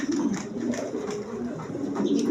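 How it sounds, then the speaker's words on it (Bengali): Pigeons, including German Beauty birds, coo repeatedly in a loft, with soft, throaty, overlapping calls that continue steadily and close by. "দেখেন একদম কোয়ালিটি সম্পন্ন কবুতর"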